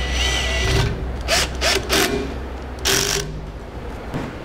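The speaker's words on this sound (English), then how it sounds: "We'll use the worm gear clamp provided with the install kit of the bracket to secure" A worm gear clamp is cranked tight onto a trailer hitch bracket in short bursts of whirring, ratchety mechanical sound over a steady low background hum, close by with brief pauses.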